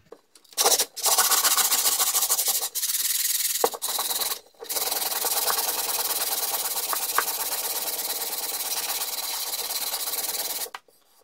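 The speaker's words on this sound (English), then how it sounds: "let's have a go sanding this bit." Steady abrasive rasping of sanding wood filler, near and loud, running continuously with a few brief pauses and no talk.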